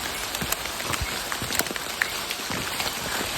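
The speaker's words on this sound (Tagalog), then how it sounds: "Tuloy-tuloy ulit ang ulan." Steady rain falls on a mountain hike on Mt. Purgatory, a dense, close hiss with scattered sharper drops pattering on nearby surfaces.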